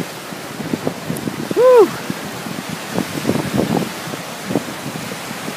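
Gusting wind whipping across the water of Cameron Lake, a rough, fluctuating rush of wind and spray with a brief whoop from a voice partway through.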